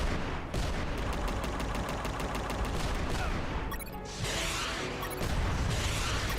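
Rapid gunfire and grenade blasts in the video game UnMetal, a fast, evenly spaced volley of shots followed by crashing bursts of explosions, dense and loud throughout with no voices.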